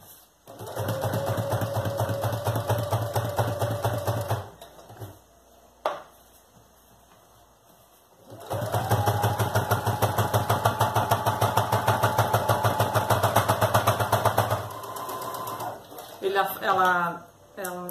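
A sewing machine stitches a child's nylon backpack in two long steady runs with a short pause between, its rapid mechanical chatter loud and close, followed by a few brief stitch bursts at the end.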